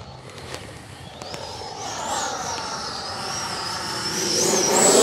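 A radio-controlled 80mm FMS F-86 Sabre jet at full throttle in windy conditions gives a rising, whining turbine-like roar that grows steadily louder as it passes close by, with no voices.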